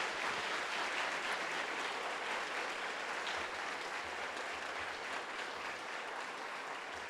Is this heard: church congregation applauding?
yes